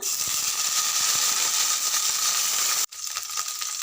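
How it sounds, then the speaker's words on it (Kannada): Cumin seeds dropped into hot oil sizzle in a loud, steady, bright hiss that drops out abruptly for a moment before the crackling resumes. "ಇದಕ್ಕೆ 1 ಟೇಬಲ್ ಸ್ಪೂನ್ದಷ್ಟು ಜೀರಿಗೆ ಹಾಕ್ತಾ ಇದ್ದೀನಿ"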